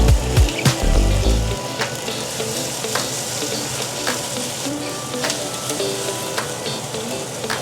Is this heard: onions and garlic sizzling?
yes